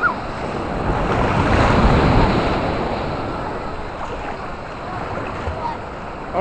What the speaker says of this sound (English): Go out in the surf here.